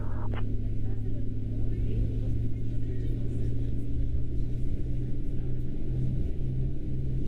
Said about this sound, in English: Engines sound pretty good.